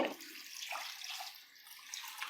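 Water pours steadily into chicken salna cooking in a pot, a continuous bright splashing rush close by that lasts the whole moment with no talk over it.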